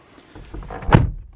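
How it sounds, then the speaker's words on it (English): A Toyota Tacoma truck door swings shut inside a garage, with a short rising rustle ending in a single solid, close thunk. "We'll close the door."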